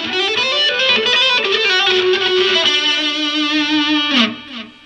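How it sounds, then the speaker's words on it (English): Fast electric guitar lead on the neck pickup with heavy distortion and echoing delay, sustained bright notes ringing out, then a quick bend before fading. "fast lead playing on the neck pickup, put a little delay and some distortion."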